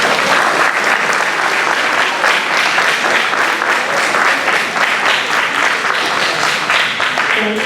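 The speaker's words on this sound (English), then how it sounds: "give your parents a round of applause" Dense, sustained applause from an audience at a school board student recognition ceremony, many hands clapping steadily and loudly for several seconds without a break.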